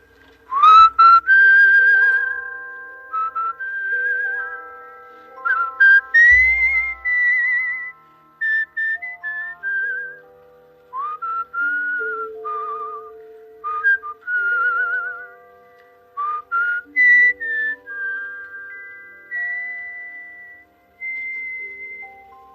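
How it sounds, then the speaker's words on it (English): A slow, gentle whistled lullaby, a soft sleepy tune carried in long sustained clear notes with brief pauses between phrases, close and fairly loud with no talking. "Now you like sleeping whistling, eh? Yeah, a sleeping kind of whistle."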